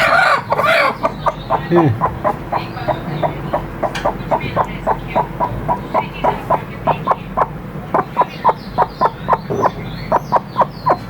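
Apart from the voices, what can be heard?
hens clucking while sitting on eggs on a showcase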